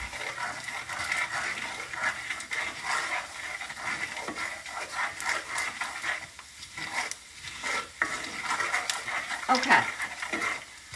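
Sausage grease popping and sizzling in a frying pan on a stovetop while gravy is being made, a steady crackling hiss with scattered sharper pops and stirring scrapes throughout.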